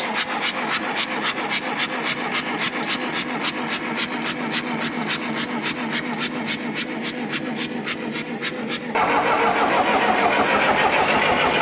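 An old John Deere bulldozer engine cranks with a steady rapid rhythmic chugging for about nine seconds, then catches and settles into a loud continuous rumbling run, sounding low on compression.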